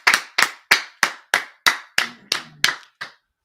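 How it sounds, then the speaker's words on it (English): Ten sharp, evenly spaced claps, slightly more than three per second, sound loud and close, with a faint murmur of voices partway through. "All right, clap it up, clap it up,"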